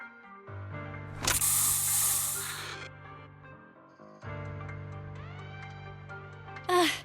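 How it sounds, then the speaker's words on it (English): A special Bangboo spray fired in the video game Zenless Zone Zero, a loud hissing burst lasting over a second over droning game music, followed by a short second spray near the end, with no talking. "Here, have a taste of this special Bangboo spray!"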